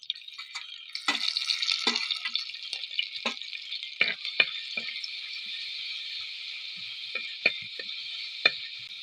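Ginger and crushed garlic fry in hot coconut oil in a pan for a fish curry, giving a continuous close sizzle. Scattered stirring clicks and taps come through over it, and no voices are heard.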